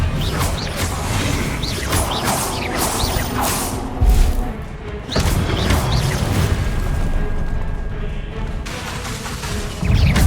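Expelliarmus spell effects during Hogwarts Legacy combat: dense booming blasts, crashes and whooshes come in a loud, continuous wall, with a heavy thump around the middle.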